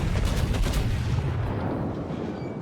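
Kongo battleship main guns firing a volley in the naval game World of Warships: a heavy, rumbling barrage that opens loud and decays slowly into a low roar, with no voices.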